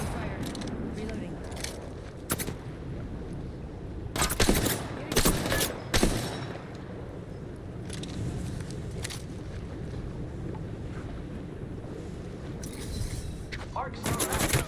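Gunfire in the Apex Legends video game, several sharp shots and short bursts spaced across the stretch, with in-game voice callouts and scraping mechanical noise between them.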